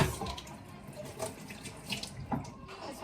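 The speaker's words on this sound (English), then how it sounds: "Give them a little rinse." Tap water runs over fresh garden tomatoes rinsed at a sink, a steady close splashing stream with soft surges as the fruit is turned under the flow.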